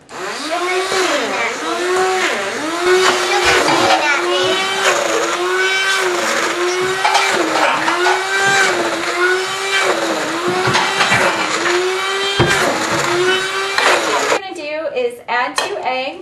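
An immersion blender whirs continuously through banana bread batter, its motor pitch rising and falling as it works the mix, loud and close, ending with a few short bursts.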